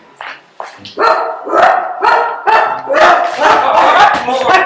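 A dog barks repeatedly and loudly close by, a rapid string of sharp barks and yips following a couple of quieter opening ones.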